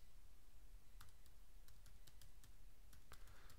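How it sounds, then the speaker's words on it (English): A name being typed on a computer keyboard, a quiet, irregular run of crisp key clicks with short pauses between bursts against a faint steady background hiss. "so I'm going to hit the plus sign and type in Ida Osborne"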